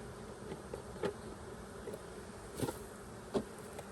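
Honey bees hum around a light, nearly empty hive during a first inspection after a swarm, a steady insect drone with a few louder passes close by.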